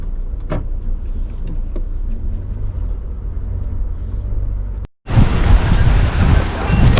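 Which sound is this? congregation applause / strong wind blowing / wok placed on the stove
strong wind blowing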